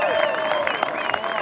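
A beach crowd at a paddling race applauds and cheers a competitor, steady dense clapping with scattered shouts, while an announcer's voice carries over the noise.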